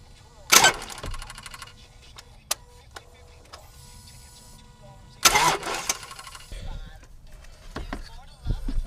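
A Subaru engine is cranked with the key after a crank pulley replacement, with two short loud bursts of starter cranking, then the engine catching into a low, steady rumble close by.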